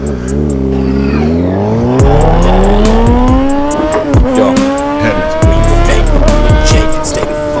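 Loud, high-revving Suzuki GSX-R600 sport motorcycle engine climbing through gears, pitch rising and dropping with each shift, close and aggressive.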